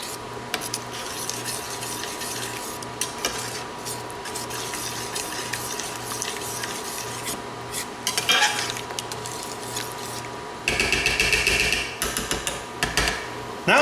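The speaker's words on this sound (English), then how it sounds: "Stir that in." Red wine is stirred into a simmering pot, with repeated close scraping and clinking of a utensil against the pot over a low background hum, ending in louder clattering bursts.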